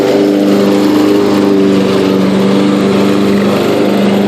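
Yard King riding lawn mower with its deck engaged in fourth gear, a loud, close, constant engine drone with a steady hum and no pauses.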